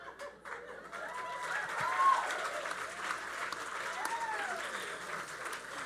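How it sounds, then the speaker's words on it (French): Applause from the audience at a live show: sustained, fairly dense clapping that swells in the middle, with scattered chuckles and voices mixed in. "Vois-tu mes applaudissements?"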